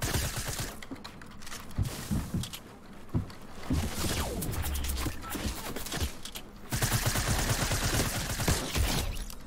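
Repeated rifle shots from an infantry rifle in Fortnite ring out amid a dense, noisy game battle, with rapid cracks, echoing blasts and continuous background clatter.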